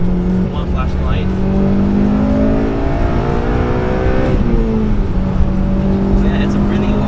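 An 8th-generation Honda Civic Si accelerates hard through a long gear, its engine note climbing steadily in a loud, close drone, with a brief dip before it rises again. A voice talks over the engine.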